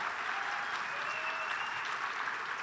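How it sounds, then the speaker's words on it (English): Steady, dense applause from a glee concert audience, many hands clapping evenly throughout, with faint cheers or a held vocal note threading through the middle. "Round of applause"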